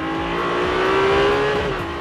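A Ferrari 296 GTB engine revs under acceleration, a steady, loud mechanical tone that climbs in pitch and swells slightly over two seconds with no voices.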